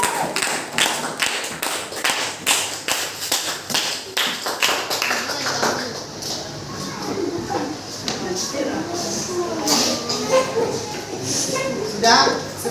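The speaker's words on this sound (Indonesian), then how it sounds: "Tepuk tangan untuk kelompok 4." Students in a classroom clap for a student group, a run of distinct rhythmic claps early on that thins into scattered clapping and background chatter, with voices talking underneath.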